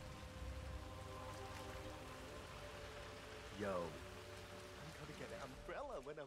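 A faint, steady hiss of rainfall in the video game Hitman 3 continues throughout, with a couple of brief warbling tones rising over it.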